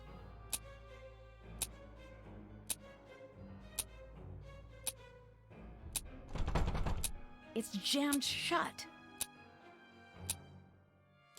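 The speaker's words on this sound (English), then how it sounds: "What is that loud and obnoxious ticking?" Loud, evenly spaced ticking from a mechanism in the Nancy Drew game Alibi in Ashes beats about once a second, interrupted midway by a rumbling burst and a noisy rush, with a brief spoken line.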